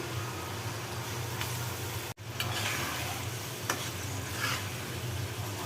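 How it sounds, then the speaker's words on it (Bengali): Fish goes into a pan of sizzling spice paste with turmeric, giving a steady close frying hiss with a brief dip and occasional light stirring scrapes, with no voices. "মশলাটা ভালোভাবে কষিয়ে নিলাম এখন আমি মাছটা ছেড়ে দিব"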